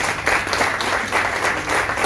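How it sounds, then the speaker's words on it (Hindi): Audience applause for performing classical musicians at a raga concert, a dense, continuous wash of many hands clapping, steady and fairly loud with no speech. "तो तालियां इन सब कलाकारों के लिए हैं"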